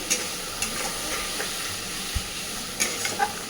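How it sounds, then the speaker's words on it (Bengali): Pointed gourd and shrimp curry cooking with sour yogurt in a pan, giving off a soft, steady sizzle with a few light scrapes and taps from stirring. The sound is quiet and close, with no voices. "আর দিচ্ছি একটু টক দই। খুব ভালোভাবে কষাতে থাকবো।"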